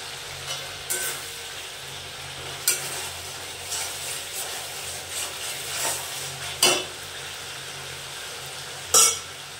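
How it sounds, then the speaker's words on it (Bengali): A ginger-garlic spice masala being stirred and fried in a pan for a jackfruit curry, giving a steady low sizzle broken by several sharp scraping clanks of the spatula, close and moderately loud, with no talking. "আবার একটু মশলাটা কষে নেব"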